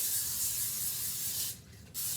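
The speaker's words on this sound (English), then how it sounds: "I'm going to put a light coat of cooking spray on there" Cooking spray hisses onto a foil-lined baking sheet in a steady close spray that stops briefly and then resumes with a short second burst.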